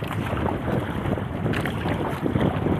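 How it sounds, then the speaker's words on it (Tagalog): Strong, steady wind buffeting the microphone with a low roar, out on the water on a fishing trip in Iloilo, continuous for the whole stretch. "Malakas na yung hangin."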